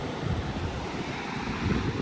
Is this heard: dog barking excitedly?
no